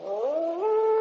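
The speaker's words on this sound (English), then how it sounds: "that was just a dog, Dora." A single drawn-out animal howl outside at night, rising in pitch and then holding a steady, wavering tone, heard alone and fairly close in a quiet radio drama scene.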